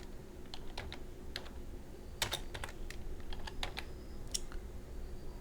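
Keys clatter on a computer keyboard while a kids' education poster is laid out, irregular clusters of crisp clicks with brief pauses over a steady low room hum, close by and moderately loud with no talking.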